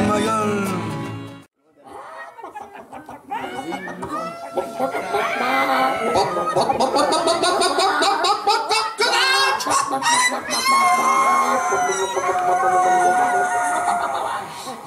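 Several people imitate hens clucking, voices squawking and cackling together, loud and lively, with laughter and talk mixed in after a short pause near the start.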